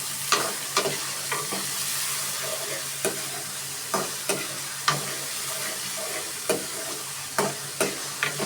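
Red lentils (masoor dal) sizzle steadily in hot oil in a pan while a spoon stirs them, its scrapes and knocks landing as sharp, irregular clicks over the constant frying hiss.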